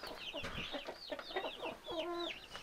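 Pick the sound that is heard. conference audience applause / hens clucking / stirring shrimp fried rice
hens clucking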